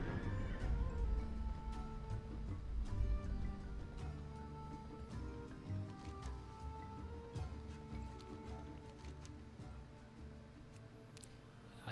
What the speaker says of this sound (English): I decided to take the horse